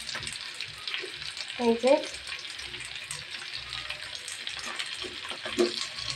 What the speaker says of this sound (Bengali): যে মাছটা ভাজা হইতেছে।